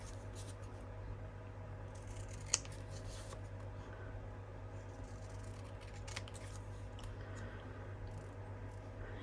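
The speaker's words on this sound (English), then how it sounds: "we'll cut out this little label that comes with it" Scissors cutting out a small paper label for a junk journal folio: quiet, close snipping and paper rustles at an uneven pace over a steady low hum, no talk.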